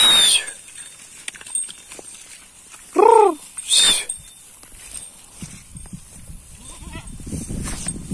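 A goat in a muddy corral gives a couple of short, loud, close bleats amid rustling and faint outdoor background noise.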